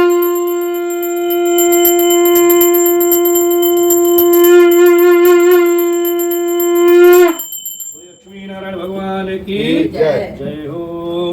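Bell rung continuously during a Hindu Satyanarayan puja, a sustained bright metallic ringing with strong overtones for about seven seconds, loud and close, then stopping as voices call out.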